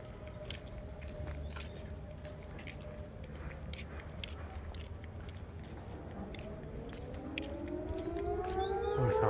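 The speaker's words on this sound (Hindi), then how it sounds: "डैम का सायरन ये आपको सुनाई दे।" A dam warning siren wails at Omkareshwar, a long steady tone that rises and sweeps upward toward the end over outdoor ambience with birds chirping and scattered noises.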